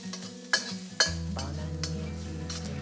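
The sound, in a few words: garlic and ginger stir-frying in oil in a wok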